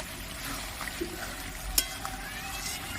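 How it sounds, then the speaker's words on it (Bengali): Chicken curry sautéing in a pan for a dhaba-style chicken kosha, a steady soft sizzle and frying hiss throughout with a single brief utensil clink partway through, close and moderately quiet, no talking. "একদম ভালোভাবে কষিয়ে নেব।"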